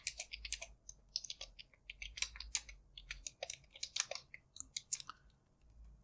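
Rapid, uneven keystrokes clatter on a computer keyboard as JSX code is typed for a React functional component, close and clear, with bursts and short pauses and no talking.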